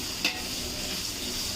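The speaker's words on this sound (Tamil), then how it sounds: "ப்ளஸ் வெங்காயத்தை நல்லா இதில் ஃப்ரை பண்ணிக்கலாம்." Onions fry with rock salt in a pan, giving a steady close sizzle with one brief scrape of stirring near the start.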